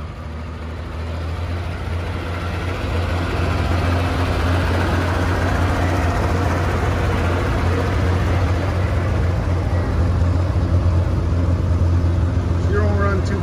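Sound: International 656 tractor engine running

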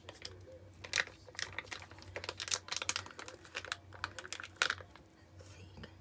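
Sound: face mask bag being squeezed and crinkled

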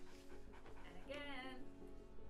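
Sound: dog panting in a mobile game ad

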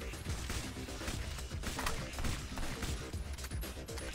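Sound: dual pistols firing in video game Alien Shooter 2

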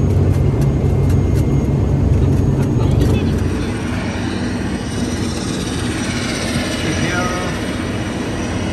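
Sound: airplane landing at Kathmandu airport

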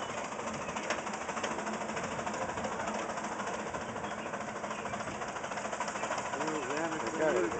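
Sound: Avery engine running with a noisy clutch

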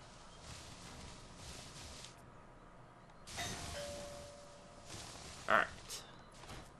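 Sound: doorbell ringing

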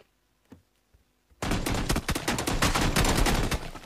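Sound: gunshots in video game PUBG

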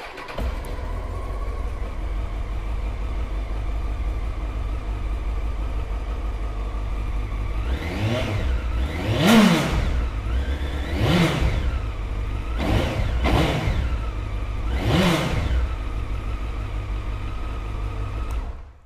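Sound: Honda CBR900RR Fireblade 954 motorcycle engine starting and revving

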